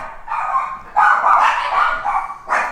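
Dogs barking loudly and close by, several overlapping barks and yips in quick succession, with a brief pause before a final burst.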